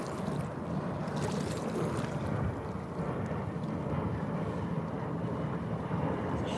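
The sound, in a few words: motorboat speeding past on the water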